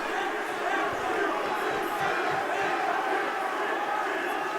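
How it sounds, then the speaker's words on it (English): A fight crowd roars at an MMA event at the Hermitage Centre, a steady wash of cheering and shouting voices at moderate level throughout. "the crowd here at the Hermitage Centre going wild"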